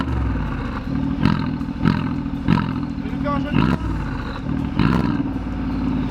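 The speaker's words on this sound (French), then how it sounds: "C'est le bruit des turbos." Turbos on a Mercedes G-Class heard from inside the cabin: loud whooshing roars surge in repeated bursts about once a second over a constant engine drone.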